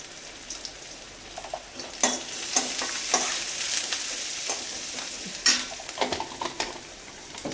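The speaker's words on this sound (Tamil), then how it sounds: "பச்சை மிளகா கருவேப்பிலை இப்போ சோம்பு போட்டுக்கலாம்" Fennel seeds, green chili and curry leaves hit hot oil in a pan for a banana-flower kootu, giving a steady close sizzle with a few sharp spitting pops and occasional stirring scrapes, no voices.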